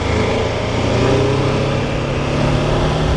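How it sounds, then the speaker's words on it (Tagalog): BMW F450 GS motorcycle in rain mode accelerating, its engine droning loud and close with a steady, slowly rising hum and heavy wind rush throughout, no voices over it. "Lakas ng bike kahit nasa rain mode lang."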